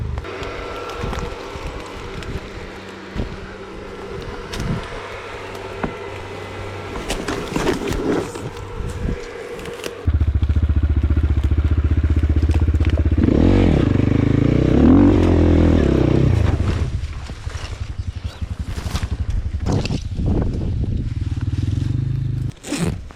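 A KOVI Lite 300 motorcycle pulls away as a loud, low engine roar mixed with heavy wind buffeting on the microphone, close by and sustained after softer rustling handling sounds.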